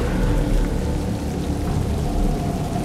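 Steady heavy rain pours down continuously, a dense close hiss of drops hitting surfaces, unbroken throughout with no voices.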